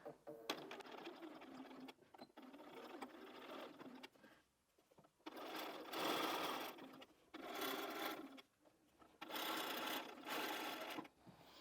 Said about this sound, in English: I'm going to put it back in under the machine and carry on with my 1/4 inch seam